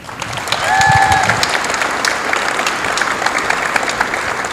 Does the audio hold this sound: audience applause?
yes